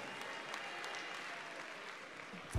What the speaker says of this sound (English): Please a round of applause for both of them.